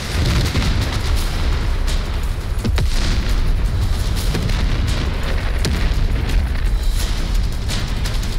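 Explosions shake a war zone in Ukraine during Russian attacks, with loud, heavy booms and sharp bursts over a continuous deep rumble, close and without speech.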